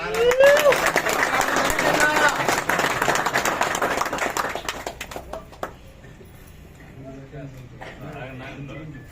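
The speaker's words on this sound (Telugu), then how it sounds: "అందరూ కూడా ఒకసారి చప్పట్ల ద్వారా" A crowd at an outdoor political birthday celebration in Guntur claps loudly for about five seconds, then the applause dies away and speech continues over a quieter background.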